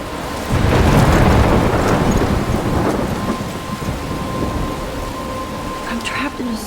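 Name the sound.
storm with rain and thunder in video game Life is Strange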